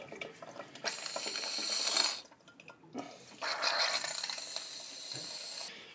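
Water pouring and splashing into a rain gutter grow system in a winterized greenhouse, a hissing gush that runs for a couple of seconds, breaks off briefly, then resumes and carries on fairly steadily.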